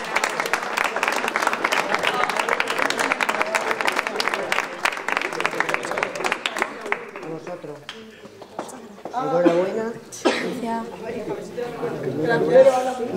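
A crowd at an outdoor school cultural gymkhana claps for about seven seconds, a lively clatter of hands that fades into loud talk and voices over a public address.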